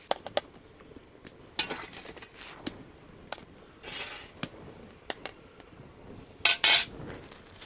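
Steamed vegetable momos are lifted one by one from a metal steamer, with scattered sharp clinks of utensil against metal and a few brief scraping rustles, quiet between the knocks.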